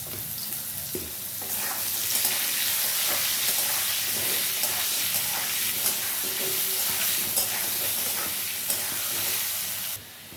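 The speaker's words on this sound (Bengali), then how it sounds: "সামান্য নুন দিয়ে আলুটা ভেজে নেবো আর সামান্য হলুদ দেবো" Potato pieces frying in oil with salt and turmeric give a steady, close sizzle with stirring scrapes, holding evenly before cutting off abruptly at the end.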